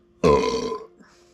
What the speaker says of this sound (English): Got a belch coming.